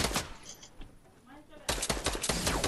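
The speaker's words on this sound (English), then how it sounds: "Being shot from behind." Fortnite squad match gunfire: dense rapid bursts of shots, a few in the opening moments, then a sustained loud barrage after a quieter stretch, with speech mixed in.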